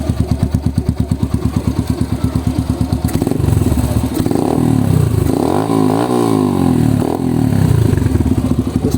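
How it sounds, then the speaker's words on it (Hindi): A Yamaha YBR-G motorcycle engine idles with a rapid, even thump, then revs up and down several times, loud and close, with no talking. "बाकी आए आपको बाइक का साउंड भी सुनवा देता"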